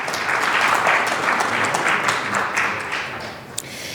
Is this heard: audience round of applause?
yes